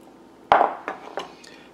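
Knife blade knocking against an avocado seed to lift it out of a halved avocado, one sharp clack followed by three lighter taps, close and clear with no talking.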